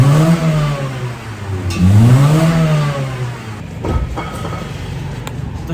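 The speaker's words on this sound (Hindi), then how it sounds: "एक अभी स्टॉक का मैं आपको सुनाता हूँ कि अभी सादा साउंड कैसा है" A stock-exhaust car engine revs up loudly, its pitch sweeping up and falling back twice in smooth, sustained swells, then settling into a rougher idle with a few knocks near the end.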